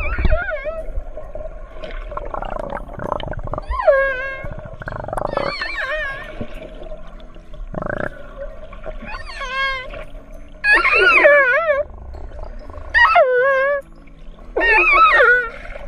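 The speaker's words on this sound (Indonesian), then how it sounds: "Ayo kita dengarkan seperti apa ya suara paus orca saat berkomunikasi" Orca whales calling to one another with high-pitched, rising and falling whistles and squeals, arriving in repeated bursts that grow louder toward the end, over a steady low underwater hum.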